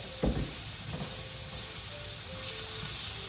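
Food sizzling on a hot cast iron grill, a steady bright hiss with a few soft scraping stirs and clinks early on, close and continuous with no voices.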